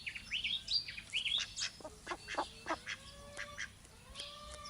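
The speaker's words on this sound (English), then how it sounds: "Oh, and the ducks come around." Ducks quack and call in a loose series of nasal honks and chirpy cries near a chicken pen, several birds overlapping at moderate distance over a quiet outdoor background.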